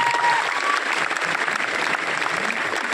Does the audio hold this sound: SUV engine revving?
no